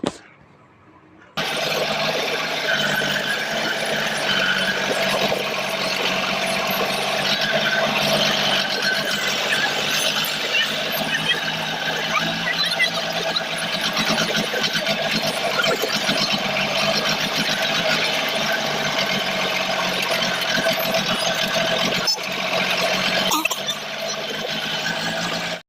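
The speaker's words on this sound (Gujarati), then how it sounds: "અમે ઘરે આવીને હવે ટ્રેક્ટર લઈને જઈ રહ્યા છીએ અમારા ખેતર" A tractor rolls along the road toward a farm field to collect cotton, its engine giving a loud, steady droning rumble without a break for nearly the whole run, with no voices.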